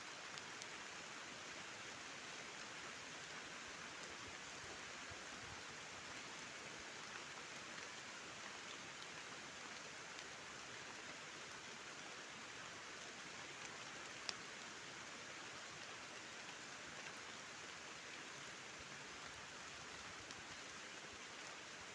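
Steady, faint rainfall patters across a forest canopy and leaves, an even hiss of drops that holds for the whole stretch with no talking.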